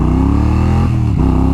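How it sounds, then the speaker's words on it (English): A muscle motorcycle accelerates hard through the gears, its engine roaring loud and close with a steady rising drone, a brief dip at a gear change, then pulling again with no talk over it. "second gear pulls just as hard, if not somehow harder, than first gear"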